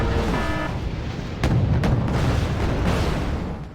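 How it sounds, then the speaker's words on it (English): A Tunguska anti-aircraft vehicle in Wargame: Red Dragon fires at enemy aircraft near a village, with a couple of sharp cannon reports over a dense, rumbling battlefield din. "Tunguska's fire."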